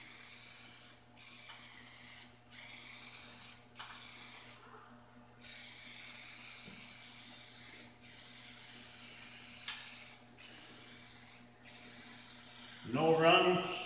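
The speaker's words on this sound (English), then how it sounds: "No wiping, you just spray it on and walk away" Repeated short hissing bursts of an aerosol spray can applying coating to a mixer, each lasting about a second with brief pauses between, close by over a low steady hum.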